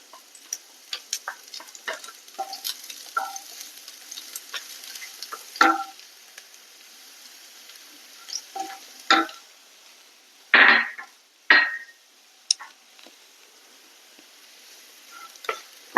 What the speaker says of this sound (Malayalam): എണ്ണ ചൂടായിട്ടുണ്ട്. ഇതിലേക്ക് നമുക്ക് ചെറുതായി അരിഞ്ഞു വെച്ചിരിക്കുന്ന വെളുത്തുള്ളി ചേർത്ത് കൊടുക്കാം.